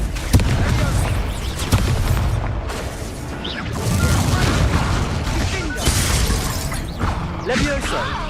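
Spell casting in the video game Hogwarts Legacy: dense magical whooshes, bangs, shattering crashes and booming impacts in rapid succession, loud and continuous, with a voice speaking over the effects.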